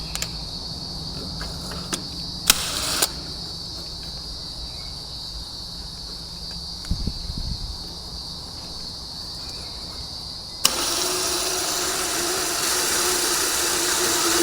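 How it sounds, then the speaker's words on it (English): Small brake cylinder hone spinning inside the bore of a disc brake caliper on a Galant hardtop, a steady high whirring hum with faint scraping, close by, growing louder and harsher near the end. "I'm going to give it a hone job now to clean that bore out."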